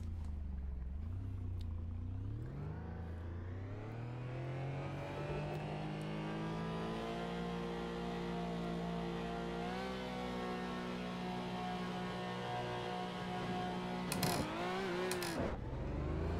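Porsche GT4 Clubsport engine in a sim racing game revving up at a race start, a steady loud drone rising in pitch, then a sharp burst of higher revving and shifting near the end, with no talk.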